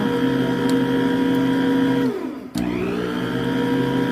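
An electric hand mixer whirs steadily through cheesecake batter with sour cream, a loud continuous motor hum that dips briefly as it slows and restarts, then runs on evenly.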